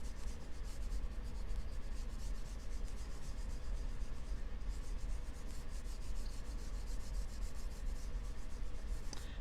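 Glitter being rubbed lightly onto a pen, a soft, continuous scratchy rubbing in quick repeated strokes, faint and close, with no talking.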